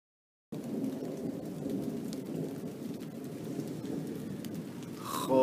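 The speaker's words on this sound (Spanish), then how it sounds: "Está lloviendo a cántaros." Heavy summer thunderstorm rain pours down steadily as a dense, continuous roar, with low rumbling thunder woven through it and a louder swell near the end; no voices.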